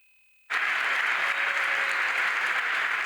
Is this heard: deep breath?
no